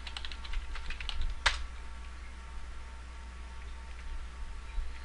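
A password is typed on a computer keyboard, a short run of light, quick key clicks followed by one sharper keystroke, then a quiet background hum.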